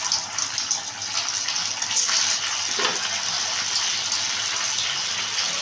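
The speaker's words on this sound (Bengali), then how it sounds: "পরেরগুলো আমি ভেজে নিচ্ছি।" Chhana (paneer) kofta balls fry in hot oil with a dense, steady sizzling hiss that swells slightly midway and carries on unbroken to the end.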